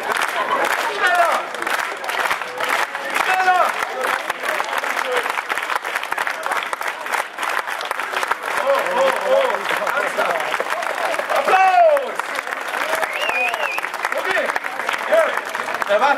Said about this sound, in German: Jörg, hat dir der Applaus gefallen?